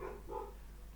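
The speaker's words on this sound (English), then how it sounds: "oh excuse me if you can hear Crumble barking," A dog named Crumble gives two short, faint barks somewhere in the distance indoors, quick muffled yaps over a low background hum.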